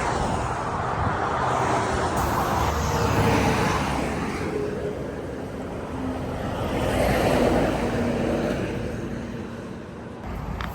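Traffic on the Trans-Canada Highway heard from a small parallel road, vehicles swelling and fading past in two broad passes amid wind noise, moderately loud and continuous.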